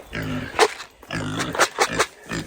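Pigs grunt and squeal in bursts, several animals close by and excited, with sharp high squeals breaking through the lower grunting.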